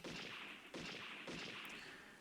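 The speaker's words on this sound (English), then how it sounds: "Sounds like exploding firecrackers echoed from all sides." Firecracker-like explosions from the Higurashi video game ring out three times at roughly even intervals, each sharp burst trailing off into an echo as though from all sides, fairly quiet and with no talk.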